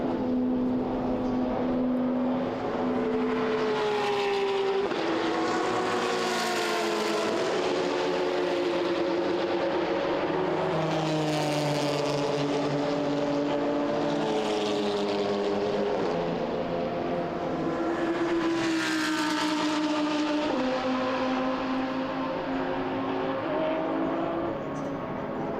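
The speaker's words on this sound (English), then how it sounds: "this is Alexander Ober in his Lamborghini, now entering the pits, and also the GT Sports Technology Porsche in the pit lane" GT race car engines, including a Lamborghini and a Porsche, running at the Hungaroring circuit during an endurance touring car race, with loud continuous engine drones rising and falling in pitch as cars pass and shift through gears.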